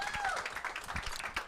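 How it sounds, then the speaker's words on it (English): Audience clapping at a high school state championship, a dense patter of many hands sustained through the moment at moderate loudness, with some voices mixed in. "round of applause for these guys"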